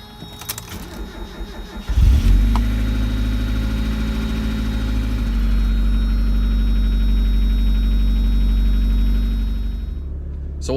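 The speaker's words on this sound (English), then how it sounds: "So while I let the car warm up" A car engine cranks and catches after a couple of seconds of quiet handling noise, then settles into a loud, steady idle as it warms up in winter, running evenly until it cuts near the end.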